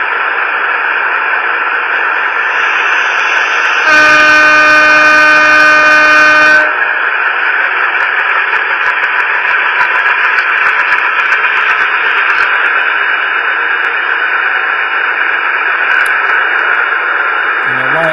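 A steady mechanical hum and rumble of a model train locomotive's sound effects runs throughout, with a brief horn-like tone sounding partway through, close and continuous.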